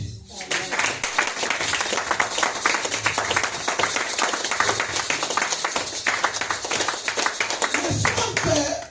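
A church congregation claps in fast, steady rhythm while acclaiming Jesus, loud and close, the dense clapping running throughout with voices mixed in beneath it.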